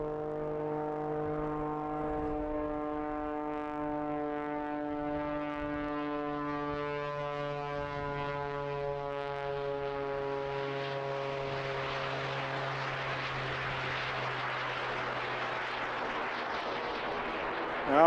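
A Pitts Special aerobatic biplane fitted with a jet engine, at the Eastbourne International Airshow, drones with a rich harmonic piston tone that gradually gives way to a broader, hissing jet roar, heard at a moderate distance.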